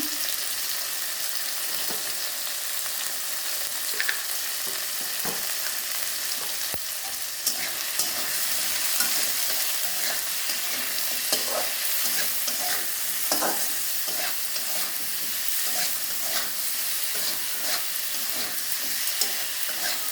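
Cabbage sizzling and frying in a pan with salt, chilli powder and turmeric powder, stirred repeatedly, giving a steady close hiss broken by scraping stirs that runs throughout without talk.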